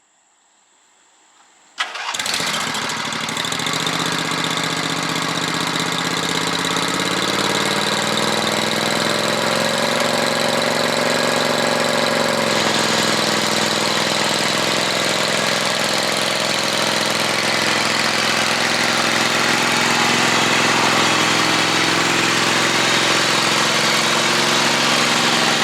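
A 22 hp Briggs V-twin on a garden tractor with a pulley swap cranks over after a brief silence, catches and settles into a loud, steady, close running drone that holds for the rest of the stretch.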